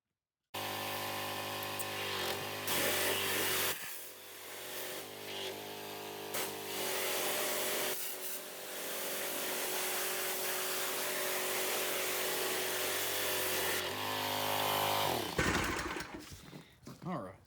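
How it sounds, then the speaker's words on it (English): Water sprayed steadily onto a Cervini's chin spoiler on a car, a loud continuous hiss running almost unbroken for many seconds before tapering off at the end. "I'm going to spray this off real quick"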